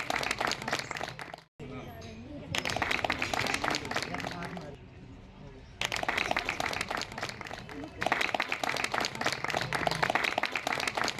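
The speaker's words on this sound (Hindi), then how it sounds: "एक बार तालियों से इनका अभिनंदन करें।" Applause for women graduating from a six-month sewing course at a women's empowerment sewing centre, with bursts of crowd clapping broken by brief pauses and a voice speaking over parts of it.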